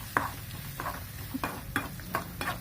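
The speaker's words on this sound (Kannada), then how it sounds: "ಉಪ್ಪು ಹಾಕಿದ ಮೇಲೆ ನಾವು ಇದನ್ನು 1-2 ನಿಮಿಷ ಫ್ರೈ ಮಾಡ್ಕೋಬೇಕ್ರಿ." Cucumber palya fries in a pan with turmeric powder and salt, a soft sizzle under a low hum, broken by a few distinct spatula scrapes and taps in a loose rhythm.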